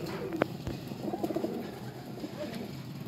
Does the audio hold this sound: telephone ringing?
no